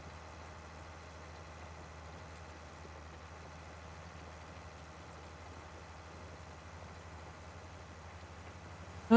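A White 195 articulated tractor idles in Farming Simulator 19, a steady low engine drone that runs evenly throughout without talk.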